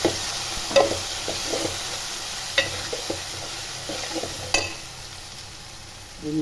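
Ground onion paste sizzles in a pan while a spoon stirs it, the steady frying hiss punctuated by several scraping knocks and clinks of the utensil.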